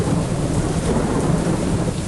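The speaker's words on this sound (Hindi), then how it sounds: "बाहर बारिश है, ऊपर से भीग गए।" Rain and thunder in the Indian Vehicle Simulator game: a loud, steady downpour with deep rumbling thunder that fills the whole stretch without a break.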